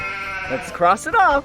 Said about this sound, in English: it's a sheep.